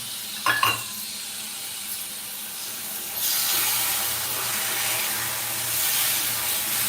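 Vermicelli kheer with sugar and a little water sizzles in a pan as it is stirred. A faint clatter comes early, then a soft, steady hiss swells and holds for the remaining seconds, with no talking.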